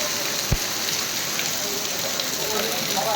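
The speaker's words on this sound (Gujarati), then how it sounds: "આની સ્થિતિ વરસાદ જેટલો બહાર પડે છે એના કરતાં તો વધારે અંદર પડે છે." Rain falls on and drips inside the roofed Navagadh railway station at Jetpur, a steady broadband hiss with scattered drop impacts and one brief knock, sounding fairly close.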